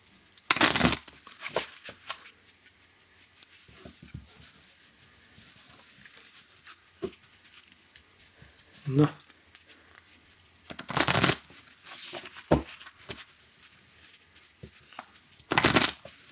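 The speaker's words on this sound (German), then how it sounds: "Und hier gilt wirklich gründlich mischen." Playing cards being shuffled thoroughly during a Fish'n'Flips card game, heard as several short riffling bursts spread apart, close up, with quiet gaps between them.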